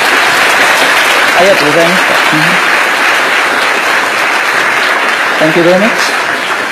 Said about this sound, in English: please send a big applause to the Dr.